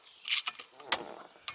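A ratchet working loose 10mm bolts gives a few quick, close metallic clicks and rattles, with short bursts separated by quieter gaps.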